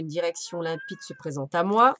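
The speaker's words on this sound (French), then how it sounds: "Excusez-moi pour mon chat." A pet cat meows once, a brief, thin call heard in the middle of a woman's speech and partly masked by her voice.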